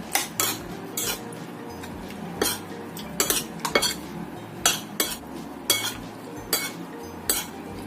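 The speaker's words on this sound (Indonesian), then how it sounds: "Aku tambahkan 1 butir telur. Kita aduk sampai tercampur rata." Utensil stirring a raw egg into a seasoned shrimp and chicken mixture in a bowl, with repeated clinks and scrapes against the side at an uneven rhythm, close and moderately loud, with no talking.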